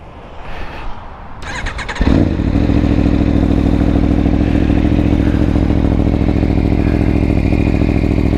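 An Aprilia Tuono V4 1100 Factory with a stock exhaust cold-starts close by: a short starter whir, then the engine catches and settles into a loud, steady, rough idle.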